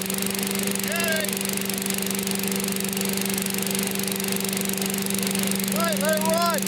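A Briggs & Stratton 200cc engine on a Simplicity leaf blower runs steadily after a pull start, its loud, constant drone holding under brief bursts of talk.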